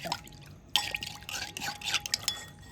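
Water pours into a bottle while pani puri water is being prepared, with uneven splashing, dripping and glugging bursts and a few light knocks of containers, fairly close and moderately quiet.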